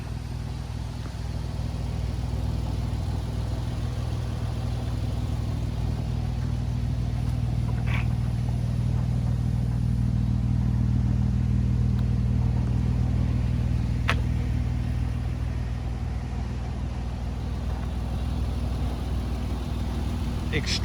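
A car engine idles steadily on a hot, sunny day with the air conditioning running, a continuous low rumble holding level throughout with no revving.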